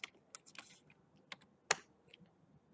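Scattered keystrokes on a computer keyboard, a handful of quick, fairly faint clicks with one sharper tap near the end, in a quiet room with no speech.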